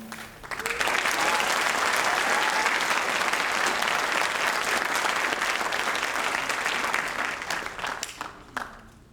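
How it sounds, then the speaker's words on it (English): A crowd at a nursing candle-lighting ceremony breaks into sustained, loud applause that swells quickly, holds for several seconds, then thins into scattered claps at the end. "Can we get another applause?"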